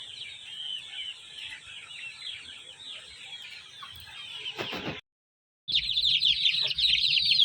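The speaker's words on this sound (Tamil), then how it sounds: "இது வந்து இருபத்தி ரெண்டு நாள் ஆன குஞ்சுகள்" Young 22-day-old chicks of a fighting rooster breed peep and chirp steadily and close by, with a short silent gap before the high peeping resumes louder.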